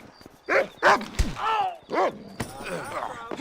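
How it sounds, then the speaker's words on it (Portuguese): A dog barks in the game Red Dead Redemption, several loud, close yelping barks in quick succession amid game sounds. "O cachorro."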